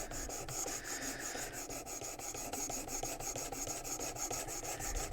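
A knife blade is drawn across the abrasive stone of a WorkSharp Precision Adjust sharpener in fast, even, rasping strokes, close and continuous, with no talking.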